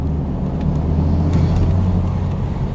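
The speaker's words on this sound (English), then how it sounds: "And that spool up of the turbos" F83 BMW M4 Convertible under spirited driving, its engine and turbos building a steady, loud low-frequency roar with a slight rising swell, no voices over it.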